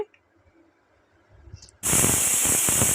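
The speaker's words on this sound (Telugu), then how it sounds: "చూసారా, విజిల్ వచ్చేసింది" A pressure cooker on the stove, cooking Andhra-style spicy mutton curry, suddenly lets out a loud, sustained whistle of escaping steam that begins abruptly after near silence and continues steadily to the end.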